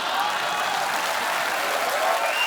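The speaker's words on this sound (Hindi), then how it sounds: "कुछ भी नहीं कहना फिर भी ताली और हंसी।" Studio audience on a Hindi comedy talk show breaks into steady, dense applause that carries evenly throughout, with a faint trace of laughter and no talking over it.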